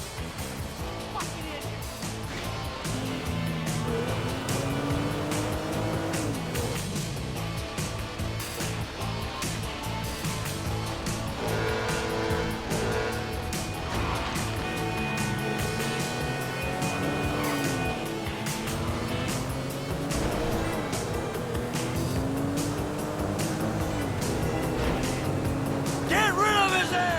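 Car engine in the video game GTA 5, a continuous motor drone with rising and falling pitch sweeps as the vehicle accelerates and shifts, steady and fairly loud throughout, with game dialogue and voices over it.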